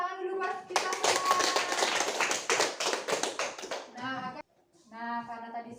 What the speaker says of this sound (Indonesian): kalau tidak ada tepuk tangan dulu buat kita semua.